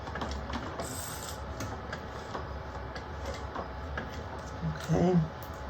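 A hand-cranked sewing machine works slowly, one stitch at a time, giving soft, rhythmic mechanical ticks and clicks under steady background noise, with a brief voice near the end.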